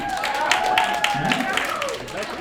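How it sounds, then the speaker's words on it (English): A comedy-club audience claps in a dense, steady round of applause that carries through the whole stretch, with a voice talking over the clapping. "just by round of applause, is that true?"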